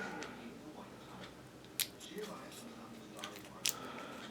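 Scotch tape is snipped while masking car wipers for black spray paint, with two sharp, brief cutting clicks spaced a couple of seconds apart amid quiet rustling and soft handling noise.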